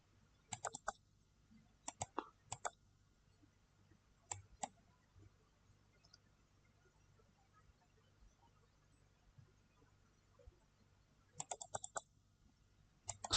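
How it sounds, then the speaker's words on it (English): Short bursts of quiet typing on a computer keyboard, a few clustered clicks separated by long near-silent pauses. "Now you type hello"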